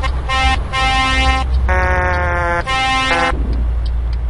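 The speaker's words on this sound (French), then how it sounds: "Ah, lui aussi klaxonne." Truck horns blaring on the road, heard as loud, sustained tonal blasts, several long honks in a row with brief gaps, over a steady engine drone from inside a cab, with no talk.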